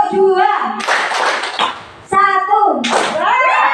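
A group of children claps hands in short counted bursts, with a teacher's voice chanting between the bursts of clapping. The bursts are close and loud.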